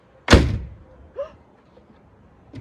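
A part on a Lexus LS430, just treated with WD-40, closes with one loud, close thunk, followed by a couple of fainter knocks.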